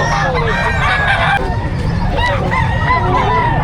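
Chickens cluck and squawk close by at a chicken market in Bulacan, several birds calling over one another in a loud, continuous barnyard chorus.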